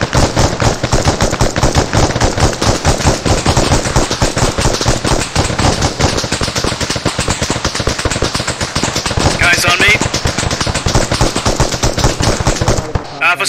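Sustained machine gun fire in the Arma military video game, rapid continuous bursts that stay loud and dense for the whole stretch with scarcely a pause, ending abruptly.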